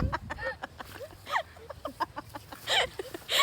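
Chickens cluck in short, irregular bursts at a rural farm in southern Laos, some calls close and loud, others fainter, with low background rumble between them.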